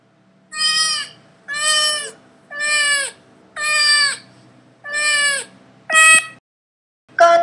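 A cat meows again and again, close and loud, giving six evenly spaced, drawn-out meows followed by a shorter seventh call at the end.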